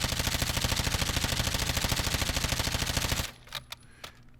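An OG Lachmann Shroud with a 50-round magazine fires a long, loud, rapid automatic burst in a video game. The burst stops abruptly and is followed by a few sharp clicks and mechanical clacks.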